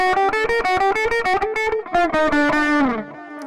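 Distorted electric guitar with effects plays a fast picked passage from the Middle-earth: Shadow of Mordor main theme, a rapid run of notes that slides into a lower sustained tone and fades, with no talking.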